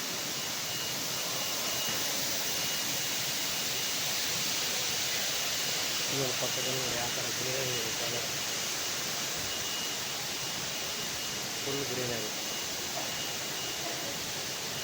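Artificial indoor waterfall at Qatar airport, a constant broad rush of falling water filling the space, with a person talking briefly over it.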